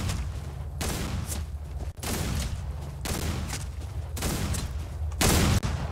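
Shotgun blasts in the Old West game Outlaws of the Old West, several loud booming shots about a second apart, each with a long noisy tail that fills the gaps, no talking.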